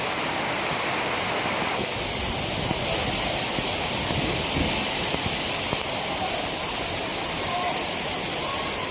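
Floodwater in Surat's Pandol industrial area after heavy monsoon rain rushes with a loud, continuous broadband roar and hiss, close and unbroken throughout.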